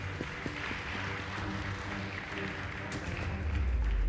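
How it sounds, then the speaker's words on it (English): Audience at a high school debate competition applauds in a soft, steady patter over low background hum, swelling slightly toward the end. "Please give them a round of applause."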